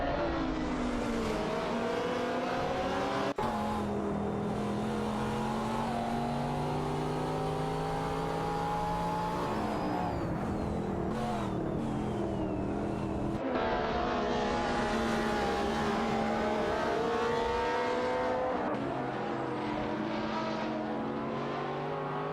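Race cars in a racing video game, a Ferrari among them, roar and accelerate continuously with rising and falling engine tones and shifts as they battle, loud and sustained.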